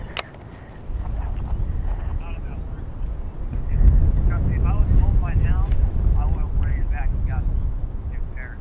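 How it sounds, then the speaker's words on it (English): Strong winter wind buffets the microphone outdoors while bass fishing, a low, continuous rumble that gusts louder midway, with voices talking faintly underneath. "It's windy though. It's windy."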